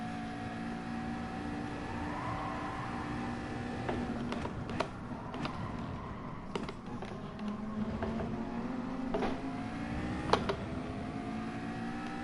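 A slow-moving Porsche in a racing video game, its engine a steady, continuous drone with a few sharp clicks and knocks scattered over the top, and no voices.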